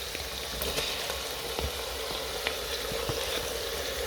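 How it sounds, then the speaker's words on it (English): Tomatoes fry in a pan for a beef curry, producing a continuous, even crackling sizzle with faint scattered pops and no talking. "Now time for me to add the tomatoes and get them to a cooked state."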